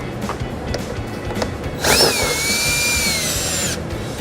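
A power drill fitted with an 8mm socket spins out screws on a 2015 Ford Escape, a whining motor burst of about two seconds rising out of quiet shop ambience, no talking over it.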